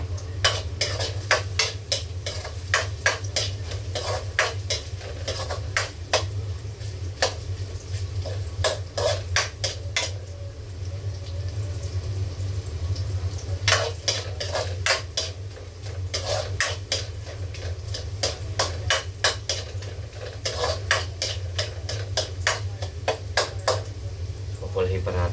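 A utensil stirs ginger, tomato and garlic in a pan for squid adobo, making rhythmic bursts of scraping clicks over a low, steady background hum with a soft sizzle.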